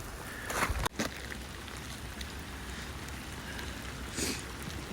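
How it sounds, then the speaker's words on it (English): Steady rain falling outdoors during a snowstorm, with icicles on the trees, a continuous close patter broken by a brief thump near the start, no voices. "And it's raining."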